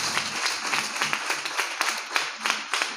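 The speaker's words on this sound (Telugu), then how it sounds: "చప్పట్లు కూడా దేవుని మహిమపరచుదాం." A church congregation claps together during Sunday worship in a prayer hall, a steady run of sharp, fairly close hand claps with a loose rhythm and no talking over it.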